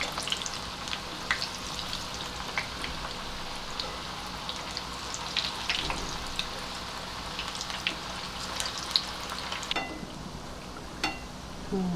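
Raw banana kababs frying in oil in a pan, a steady soft sizzle and crackle with scattered small pops over the whole stretch, close and fairly quiet.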